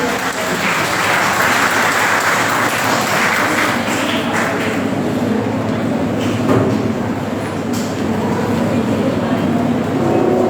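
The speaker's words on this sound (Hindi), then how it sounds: "तालियों के साथ से स्वागत कीजिए।" Dense, steady clapping from a large crowd at a school Teachers Day celebration fills the whole stretch, loud and continuous without pause.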